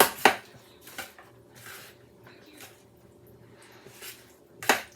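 Spinach and feta pasta stirred in a pan, a few soft scraping and clinking strokes with quiet pauses between them, close but faint.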